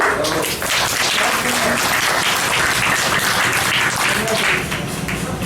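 An audience at a religious discourse in Mathura bursts into clapping, a dense, loud, sustained round of applause that runs evenly for several seconds with faint voices mixed in.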